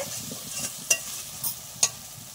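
Spice paste fries in oil with salt and turmeric, a soft continuous sizzle broken by a few sharp spatula clinks against the pan as it is stirred.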